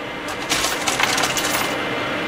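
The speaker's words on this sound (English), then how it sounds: "So you simply just dump a case in, try to get it centered." A brass cartridge case is dropped into a homemade annealer and gives a short metallic clink. Continuous mechanical noise from the annealer sits underneath it, with no talking.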